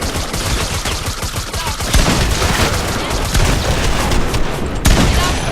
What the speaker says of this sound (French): Là, j'ai lancé des grenades.